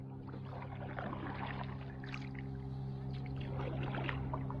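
A kayak moves across Lake McDonald in Glacier National Park, with quiet paddle splashes and dribbling water over a low steady drone, faint and close.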